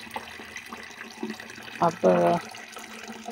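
Water from a tap gushes briefly through an attached hose pipe during clothes washing, two short loud bursts of splashing flow over quiet household background while someone speaks a word.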